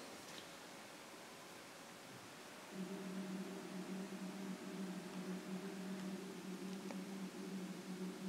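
A quiet room goes silent, then a steady hiss of pink noise limited to 100–400 Hz, with a low, humming tone, switches on and holds evenly to the end, a measurement signal for planar tweeter test panels.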